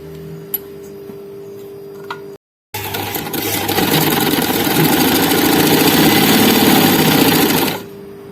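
A sewing machine hums at idle, cuts out briefly, then runs in a loud, steady, close-up whir while stitching the side seams of a garment, stopping near the end.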